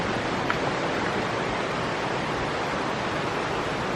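A massive waterfall in Castril, Spain, heard as a dense, steady broadband roar that stays loud and unbroken throughout, with no voices.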